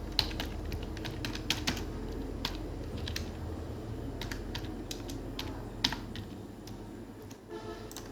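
Fingers type text on a computer keyboard, a steady run of light key clicks with occasional louder taps over a constant low hum, close and quiet, with no talking.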